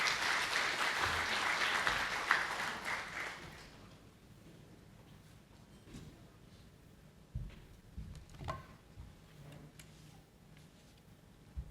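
Audience at an Armed Forces of the Philippines forum applauding Lieutenant General Arvin Lagamon: a warm burst of clapping for about three seconds that fades away, leaving a quiet room with a few faint knocks and shuffles.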